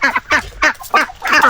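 Hybrid bird, half chicken and half Muscovy duck, on a small farm, giving five short harsh quacking calls in a steady series, fairly close and clear, with no talking.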